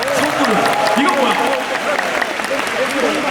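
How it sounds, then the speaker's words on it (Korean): An audience applauds at the Black Desert FESTA 2023 Calpheon banquet event, a sustained wash of clapping with a host's voice and crowd chatter layered over it. "선물은 일단 박수 치고 갑시다."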